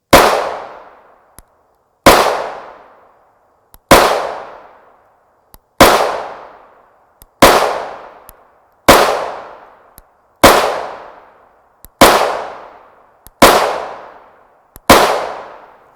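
A 9mm pistol loaded with Winchester M1152 rounds fires into ballistic gel, ten loud, sharp single shots spaced about every one and a half seconds, each ringing out briefly, with no talking.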